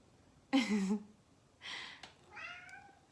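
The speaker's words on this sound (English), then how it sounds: "This cat, I swear to God." A house cat meows several times in a row, close and fairly loud: one long, strong meow followed by a shorter one and a thinner, rising cry, with no talking.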